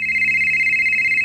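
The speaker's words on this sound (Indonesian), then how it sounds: "dikejutkan oleh suara ponsel yang berdering di lantai teras rumahnya" A mobile phone lying on a house's terrace floor rings with a steady, shrill electronic tone, loud and close, sounding continuously without pause.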